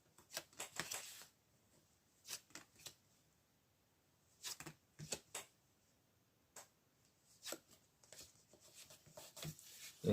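Tarot cards being shuffled and drawn on a table: scattered soft riffling and crisp card snaps in irregular clusters, close and quiet, with near-silent gaps between.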